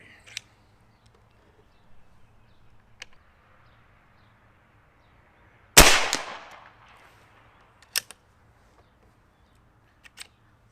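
A Dragon Claw PCP big-bore air rifle fires one loud, sharp shot at about 53 yards, with a brief decaying tail and a few faint clicks before and after in an otherwise quiet outdoor setting.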